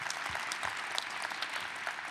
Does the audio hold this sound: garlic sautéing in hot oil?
no